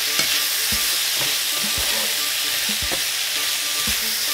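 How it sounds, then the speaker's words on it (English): Shrimp sizzle loudly in a frying pan with a dense, constant hiss, while a utensil stirs them with repeated scraping knocks about once a second, close and without talk. "now we're going to add our shrimp back to the pan. And give that a good mix."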